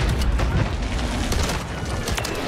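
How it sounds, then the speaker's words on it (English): A mine and a grenade detonate in a Call of Duty multiplayer match, giving a loud, sustained rumbling blast with crackling debris that fills the whole short moment at close range. "his own grenade, his own mine killed him"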